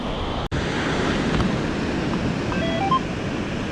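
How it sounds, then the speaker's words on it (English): Ocean waves wash onto a beach as a steady, broadband surf roar, mixed with wind buffeting the microphone and one brief click near the start, with no voices. "the waves are down now"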